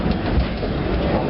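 A Disney World train ride rumbles along steadily with a dense, continuous low roar of wheels on track, loud and close throughout a short stretch with no voices.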